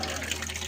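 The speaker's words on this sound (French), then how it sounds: "on a quand même un très beau robinet avec un jet magnifique" A water tap runs with a steady jet, a continuous, even hiss of flowing water close by that fades slightly at the end.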